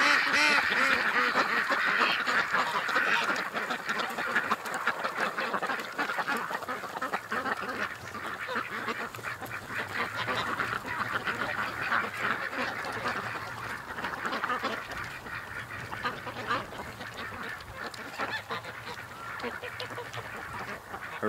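Male green-headed ducks quacking steadily during mating season, a dense, continuous chorus of raspy calls from several birds close by, with occasional goose-like honks mixed in.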